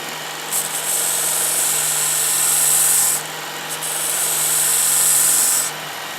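A Baldor bench grinder hums steadily as a tool is pressed against the wheel in two bursts of loud, hissing grinding, with the motor's whine continuing between them.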